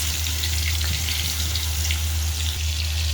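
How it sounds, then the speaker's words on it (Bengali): Rohu fish frying in a pan of hot oil, a steady, dense sizzle with a low constant hum underneath, loud and unbroken throughout with no talking. "এখন আমি এটাতে মাছগুলো ভালোভাবে ভেজে নেব"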